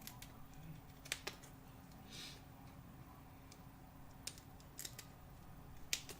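Scissors snip around glued paper for a papercraft layout: a few sharp, quiet cuts spaced irregularly over a low steady background hum, with no talking.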